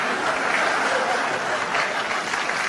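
Dense, steady audience applause at an interview with comedian Ricky Gervais, a loud continuous wash of many clapping hands with no break.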